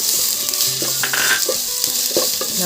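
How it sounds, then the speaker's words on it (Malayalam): Onions and garlic sizzle steadily in a hot pan, with occasional stirring scrapes and light clinks under the continuous loud frying hiss, for a prawn rice dish. "നന്നായി ഒന്ന് വഴറ്റിയെടുക്കാം ഉള്ളിയും വെള്ളുള്ളിയൊക്കെ വഴണ്ടി വന്നിട്ടുണ്ട്"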